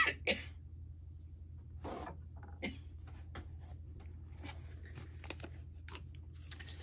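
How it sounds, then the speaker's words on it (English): A woman coughs and clears her throat in a quiet indoor craft room, a couple of sharp coughs at the start and middle followed by scattered small clicks and rustles. "Sorry for the coughing."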